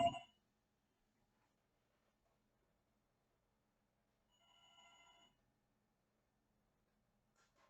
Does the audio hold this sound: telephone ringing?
yes